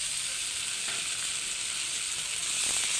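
Sisig with pork fat and skin sizzles steadily in a pan with onions, a loud, dense, continuous frying hiss with faint stirring scrapes near the end.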